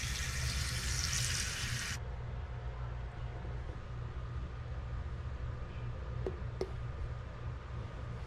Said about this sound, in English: Now it's time for us to fill it up with some water